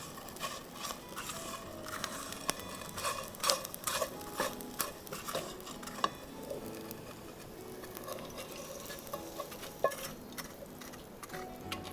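Ghee poured into a pan to roast flour, a steady close sizzle with clinks of the spoon against the metal, under faint background bird calls and no talking.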